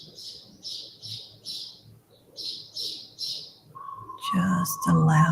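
Birds chirping outdoors in short repeated bursts at a steady rhythm, moderately near, with a soft low rumble beneath and a louder burst of mixed sound at the very end.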